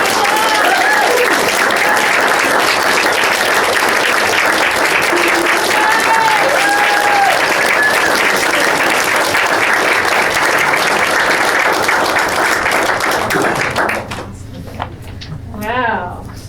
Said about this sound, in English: Let's give a round of applause, everybody.